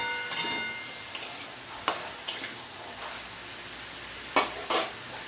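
Spices stirred with salt and turmeric in a hot pan, a faint steady sizzle broken by several quick scraping strokes of a spoon at uneven intervals, close by with no talking.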